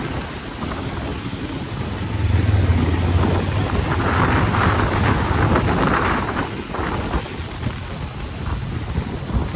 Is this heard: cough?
no